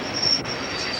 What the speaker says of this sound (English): The train now approaching platform 1 is the 118 from Carlisle.